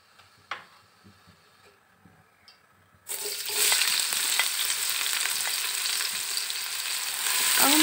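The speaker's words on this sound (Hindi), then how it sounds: "हाफ कप जितना ऑयल हो गया, अब हम इसमें कटी हुई अनियन डालेंगे।" After a few quiet clinks, chopped onions hit half a cup of hot oil with a sudden loud sizzle that holds steady and swells slightly toward the end, close to the pan, with no talk.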